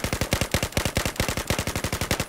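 Rapid automatic gunfire in the video game Battlefield 4, a loud, close burst of about two dozen evenly spaced shots fired in quick succession with no pauses.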